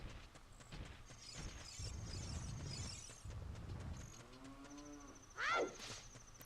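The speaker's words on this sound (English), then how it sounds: "And I hear cows on the mountain, which is kind of weird." Cattle moo on a mountain in a Zelda ROM hack video game, a few drawn-out lowing calls over soft game ambience, with a louder, brighter moo near the end.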